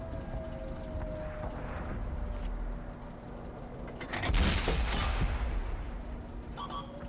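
In World of Tanks on console, a Swedish Strv S1 tank's cannon fires a heavy boom midway through a low, droning engine-and-track rumble, followed by a brief rattling clatter near the end.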